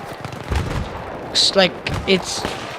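Sharp bursts of SCAR-H rifle fire in Battlefield 3 pop out in a few short clusters around a busy game mix, with a voice talking over parts of it.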